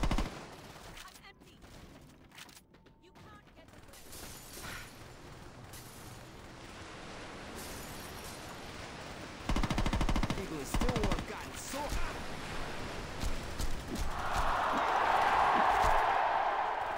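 Gunfire in Saints Row 2 rattles through a chaotic stretch, bursts of automatic shots building louder toward the end, with a person talking over the shooting at times.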